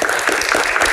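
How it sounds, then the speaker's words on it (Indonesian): University students in a Jakarta studio audience applaud, a dense, steady wash of clapping that fills the whole second at a fairly loud level with no voices over it. "Tepuk tangan untuk teman-teman mahasiswa yang ada di Jakarta"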